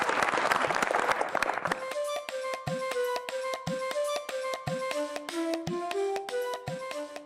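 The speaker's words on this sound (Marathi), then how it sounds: "त्यांच्यासाठी पण टाळ्या." A gathered audience claps briefly and loudly at the start, then the clapping stops abruptly and a run of bright, ringing musical chime notes takes over.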